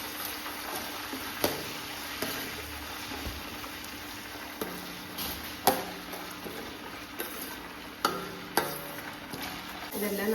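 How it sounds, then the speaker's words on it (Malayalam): About 100 grams each of ginger and garlic sautéing in oil in a pan, a quiet low sizzle punctuated by repeated sharp scrapes and clinks of a spoon stirring against the pan. "വെളുത്തുള്ളി ഒരു 100 ഗ്രാം. എന്നിട്ട് നന്നായിട്ട് വഴറ്റുക."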